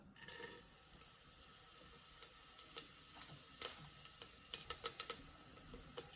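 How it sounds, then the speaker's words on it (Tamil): Fennel seeds sizzle in hot oil inside a pressure cooker, a faint steady hiss dotted with small crackling pops that grow busier toward the end. "இப்போ சோம்பு நல்லா பொரிஞ்சிருச்சு."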